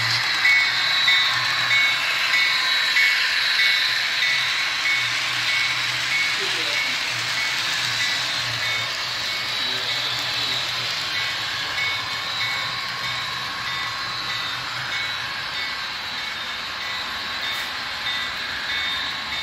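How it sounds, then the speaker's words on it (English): Long freight train rolling past, a steady continuous rumble with high metallic squeal and tonal ringing from the wheels, heard from nearby for the whole stretch with occasional voices in the background. "It was a long train though."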